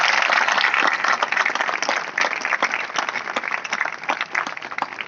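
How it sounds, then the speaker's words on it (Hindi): An audience at a traffic awareness event in Sonebhadra, India, applauds to welcome an arriving guest, a loud, close burst of many hands clapping that gradually thins and softens. "जोरदार तालियों स्वागत करें।"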